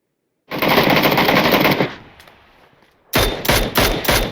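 Automatic gunfire from the video game PUBG during an esports finals match: a long loud burst of rapid fire, a quieter fading tail, then several more sharp closely spaced bursts.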